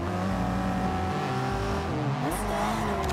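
A Subaru WRX STI racing car in Forza Horizon 2 revs hard and close, its engine note climbing and shifting through gears in a loud, continuous drone, with a brief tyre squeal near the end.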